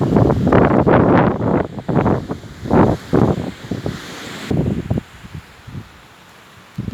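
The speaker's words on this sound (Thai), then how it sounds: "ลมแรง" Strong wind gusts through pine trees in loud, buffeting surges that roar against the microphone, then ease into a calmer, fainter rustle near the end.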